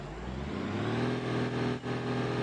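A truck engine in the BeamNG.drive driving game revs hard while the truck is stuck, rising in pitch as it strains, with a brief dip in the drone near the end, loud and steady with no talk.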